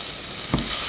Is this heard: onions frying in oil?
yes